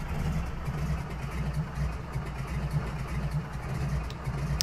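Aircraft piston engine running steadily in the FSX flight simulator on a bush airstrip, a continuous low drone with a throbbing idle pulse, close and even throughout with no speech over it.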